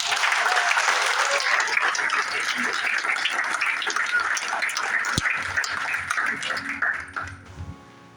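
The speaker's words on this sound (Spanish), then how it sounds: "Denle un aplauso a Cristo." A church congregation breaks into sustained applause that fills the room at a steady level for about seven seconds, then thins out and fades near the end, with scattered voices mixed into the clapping.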